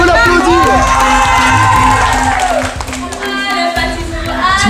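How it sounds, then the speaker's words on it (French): A loud crowd cheers and claps after a countdown at a youth outdoor event. High shouts and children's voices ring over the clapping, and the cheering dips briefly before rising again. "On peut l'applaudir."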